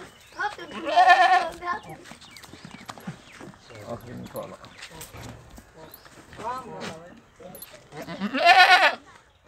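Goats bleat loudly at a livestock market in Pakistan, with two strong cries near the start and end and fainter calls between, while someone talks throughout.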